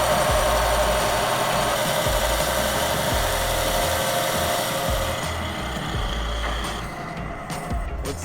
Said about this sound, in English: we're gonna try and scoop out the meat of the wheel to make the outer lip flex a bit more